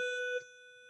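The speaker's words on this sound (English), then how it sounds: "there's the other bell" A single electronic bell rings a steady tonal chime for a moment before cutting off, leaving a faint lingering hum; quiet and brief, with no talk.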